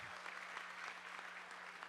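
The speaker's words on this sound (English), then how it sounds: "please, round of applause for her" Audience applause for Abby at a junior chef challenge final, a steady dense wash of clapping from a crowd that runs evenly for about two seconds with no voices over it.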